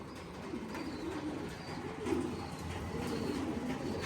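Racing pigeons returning to their loft, giving soft low coos under a steady outdoor background hum, fairly faint throughout.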